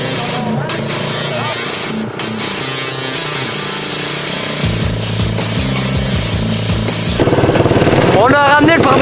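A modified 250cc engine fitted into a children's ATV revs loudly outdoors, its buzzing tone rising and falling, climbing to a higher whine toward the end, with people talking and shouting nearby.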